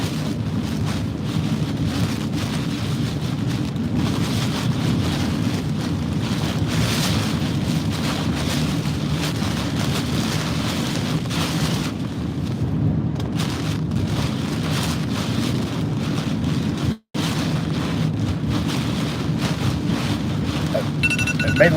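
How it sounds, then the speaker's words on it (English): Strong Hurricane Francine winds in Louisiana batter a car being driven northeast, a loud, continuous roar and rumble of wind and road noise with a brief dropout near the end. "Driving to the northeast, I've got this east-southeast wind blasting me."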